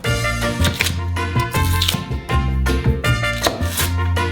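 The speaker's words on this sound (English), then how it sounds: "We chop our celery into long strips," Celery is cut into long strips with a knife, making a quick run of sharp, close chopping taps in bursts over a steady tonal background.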